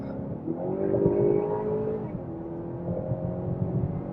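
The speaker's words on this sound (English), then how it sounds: "I put it in sport mode, so we're just going to rev it up here and see kind of what happens." A 2019 Honda Accord Touring with the 2.0T engine, in sport mode and pulling hard from about 40 to 80 mph, giving a steady rising engine drone with a shift partway through, heard from inside the cabin.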